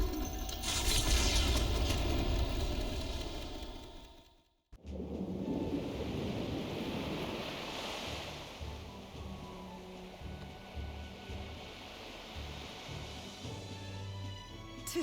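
Ocean waves wash and roar steadily in Metaphor: ReFantazio as a ship sails toward Virga Island, with a brief drop to near silence before the surging water resumes under low rumbling.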